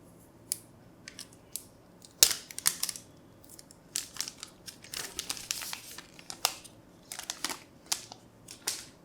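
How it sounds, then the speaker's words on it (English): Protective plastic film is peeled off a new Redmi Note 10 Pro phone, heard as close, irregular crinkling, crackling and tearing bursts spread over several seconds with no talking. "Let's peel the plastic off."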